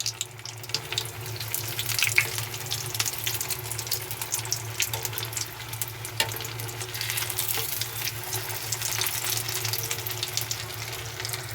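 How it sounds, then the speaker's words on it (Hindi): Aloo chicken cutlets shallow-frying in a pan give a steady, close crackle and hiss that runs the whole time over a low, constant hum, with no one talking. "फोर मिनट और इसको हम फ्राई होने देंगे।"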